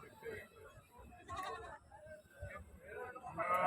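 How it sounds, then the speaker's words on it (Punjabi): Goats bleat a few times nearby at a goat market amid the chatter of people talking, the calls rising over a busy background. "ਬੱਕਰੀਆਂ ਬੱਕਰੇ ਦੇਖੋ"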